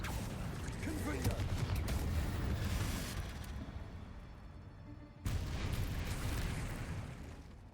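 A Confringo spell blast in Hogwarts Legacy, a heavy explosive roar with rumbling debris under a talking voice, cut off by a sharp second burst partway through.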